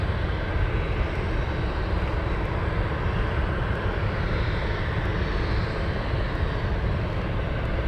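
A Beechcraft 1900 turboprop crosses the runway at Anchorage airport, its engines giving a loud, steady droning roar that holds constant and close for the whole stretch, with no talking.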